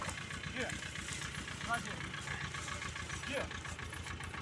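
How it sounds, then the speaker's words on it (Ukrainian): A low tractor engine rumble drones steadily throughout as it drives past horses, with voices chattering over it outdoors. "Трактор їде, вони навіть не реагує."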